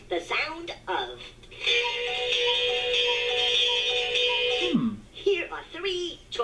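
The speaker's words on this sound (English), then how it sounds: "That was the sound of a cuckoo clock." A cuckoo clock chime plays a steady, bright tonal melody for several seconds, framed by talking before and after.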